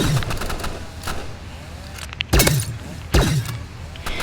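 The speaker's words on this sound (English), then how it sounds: "which I only wanted energy pistols. If you shoot it straight, see?" Energy pistols firing in the Rivals video game, heard as a few sharp, close electronic shots with quick rattling bursts spread across the stretch and no talk over them.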